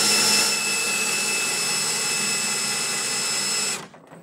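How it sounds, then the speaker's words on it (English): A power drill spins a washing machine smart drive motor, a permanent magnet three-phase unit, giving a steady, loud mechanical whine for nearly four seconds before it cuts off abruptly, leaving near silence. "I'm going to position the drill onto the washing machine"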